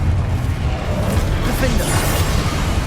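A Confringo fire spell exploding in the Hogwarts Legacy video game, a loud, dense rumbling blast filling the short clip with crackling debris over low booming.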